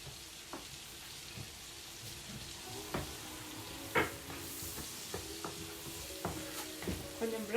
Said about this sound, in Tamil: கொஞ்சம் ப்ரௌனாக வரும் வரைக்கும் நாங்கள் இதை ஃப்ரை பண்ணுவோம்.